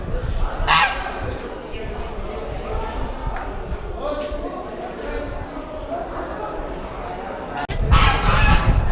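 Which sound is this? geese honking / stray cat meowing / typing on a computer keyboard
geese honking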